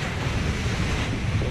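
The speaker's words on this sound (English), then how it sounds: "Those are the killer California waves," Ocean waves at Santa Barbara Harbor near a large wooden pier, a rough continuous wash of surf mixed with blustery wind buffeting the microphone, loud and close, with no talk.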